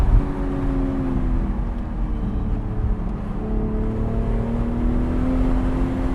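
A 2023 BMW Z4 M40i LCI's six-cylinder engine pulls steadily under acceleration with a ZF gearbox, a continuous rising drone heard from inside the car with no talking over it.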